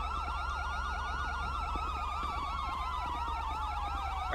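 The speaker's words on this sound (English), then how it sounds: "let me turn my siren off. It's kind of annoying." Police car siren from the video game GTA V wailing steadily and loudly in a rising-and-falling cycle, with a second overlapping siren tone and a low engine hum underneath, no talking.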